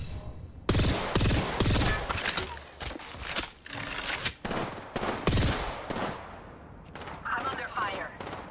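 Rapid bursts of gunfire in the Apex Legends battle royale shooter, loud and close, coming in dense volleys and rattling strings with brief gaps, with a quieter exchange toward the end.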